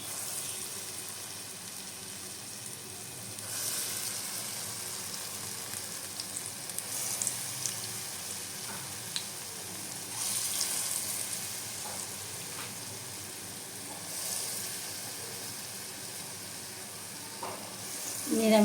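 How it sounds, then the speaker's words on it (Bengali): Pea lentil fritters deep fry one by one in plenty of oil, a steady crackling sizzle throughout with brief louder surges of bubbling and a few soft clinks. "এইবার আমি এই বড়াটা সম্পূর্ণ তেলে ভেজে নেব"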